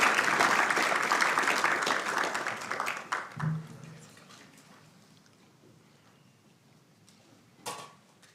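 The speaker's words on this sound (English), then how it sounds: "another big round of applause for Sunburst Project here" Applause at a city council meeting rings out for a few seconds and then fades away, leaving quiet room sound with a couple of small knocks.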